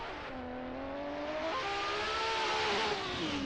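A drift car powered by a Nissan RB engine revs hard and steadily, its rising and falling engine note loud and continuous with no talk over it.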